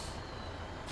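A truck's air brake in Farming Simulator 15 gives a brief, close hiss of released air, then a second burst as the one-second sound ends, with no talk.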